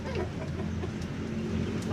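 Sick Bangkok chickens in a dirty coop give low, repeated clucks close by, a steady murmur of fowl sounds with a faint voice underneath.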